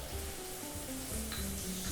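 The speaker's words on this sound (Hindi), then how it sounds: "तेल में हम एक छोटा प्याज ले लेते हैं सौते करके" A small onion sautéing in oil for veg makhanwala, a dense, close hiss of frying with faint hum underneath, steady throughout and unaccompanied by speech.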